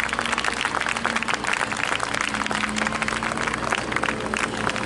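Applause from an outdoor concert audience on a beach at a Ferragosto dawn concert, dense and continuous clapping from a sizeable crowd heard up close.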